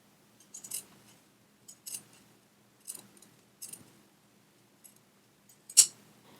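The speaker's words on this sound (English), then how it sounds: "You're going to cut off the excess fabric." Scissors snip through excess shirt fabric in a quiet room, about seven separate crisp cuts spaced roughly a second apart, close and fairly faint, with the last cut the loudest.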